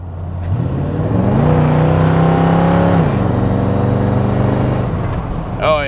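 A hot rod with a new SBC 350 engine accelerates from inside the car, its engine note rising through a kickdown shift and climbing again, loud and steady with road rumble throughout.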